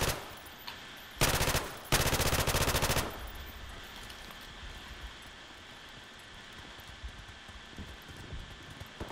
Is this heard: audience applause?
no